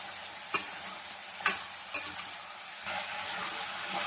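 Whole spices such as cinnamon and cloves with coriander frying in oil for an ivy gourd masala curry, giving a low sizzle with a few sharp spatula taps and scrapes, then a denser hiss near the end, close and quiet.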